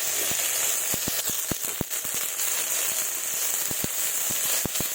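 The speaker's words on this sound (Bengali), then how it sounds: "মশলাটাকে একটু ভেজে নেব।" Mustard seeds, dry chili paste, ginger paste and cumin paste frying in hot oil, giving a steady sizzle dotted with sharp, irregular pops and crackles, close and alone.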